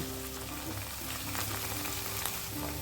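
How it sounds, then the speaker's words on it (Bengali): Spice paste frying in a pan sizzles steadily after water goes in, a dense, even hiss with faint crackle, heard close and alone. "মশলা কষানো হয়ে গেছে এবার দিয়ে দেব জল"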